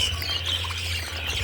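Pet parakeets in a home aviary give harsh, continuous squawks and chirps at close range, over a low steady background hum.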